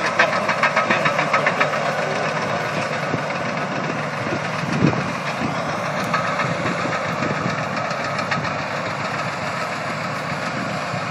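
A D7 bulldozer pushes a tree over in the Clarence Valley, its diesel engine droning loud and steady with a knocking, vibrating rumble and a brief heavier thump midway, no voices.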